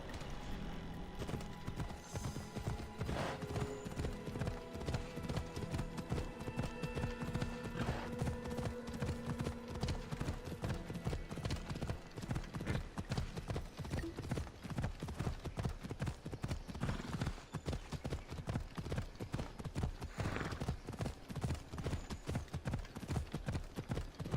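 Horse hooves clip-clop at a steady trot throughout a ride in Assassin's Creed Odyssey, the regular beats loud and close over a bed of game ambience and music.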